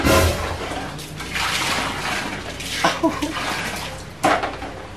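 Something is being washed with soapy water, splashing and running in broad bursts with a few sharper splatters, heard up close.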